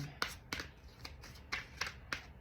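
An oracle card deck, the Lover's Oracle, is shuffled by hand in several crisp riffling bursts about half a second apart, close up, with no talking over it.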